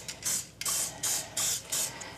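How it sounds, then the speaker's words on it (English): Pam cooking spray misted onto a baking pan in a series of about five short, close hissing bursts with brief pauses between them. "Now we're going to spray our pan with Pam."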